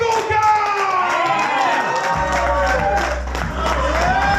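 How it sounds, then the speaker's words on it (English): A crowd cheers, shouts and claps as a performer makes his entrance at a live event, loud and close, with a man yelling over the noise and tones sweeping up and down beneath it. "loud round of applause"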